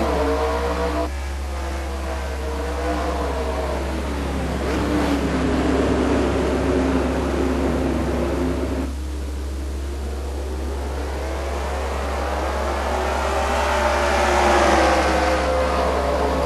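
Race cars roar off at the green flag in a NASCAR racing video game at Hokkaido Speed Park, a sustained engine drone rising and falling in pitch as the pack accelerates, loud and steady with no talk.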